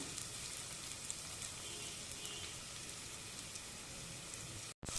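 Bitter gourd and green chili frying in a pan, a steady close sizzle and crackle of hot oil running throughout, with a brief dropout near the end.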